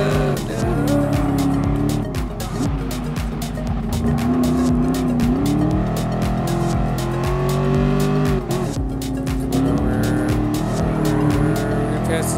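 Race car engine screaming at high revs in the PS4 racing game Gran Turismo Sport, with rising and falling gear changes and tire squeal through tight corners, loud and continuous while someone talks over it.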